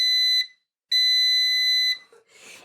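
Two loud, piercing electronic beeps from an air fryer, the second longer, followed by a brief soft rustle as the appliance falls quiet.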